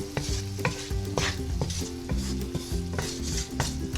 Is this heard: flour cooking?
yes